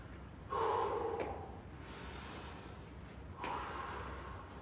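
Deep breathing after a workout, with two long, loud, breathy inhales or exhales separated by quieter background noise and no speech.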